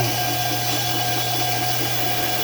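A polishing machine runs steadily on a vintage German swirl marble at 800 grit, giving off a constant, even mechanical whir and hum with no pauses and no talking.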